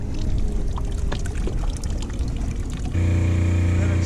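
Water dribbles overboard from a boat watermaker's booster pump outlet as a continuous splashing pour, with a steady mechanical hum rising near the end and voices around it.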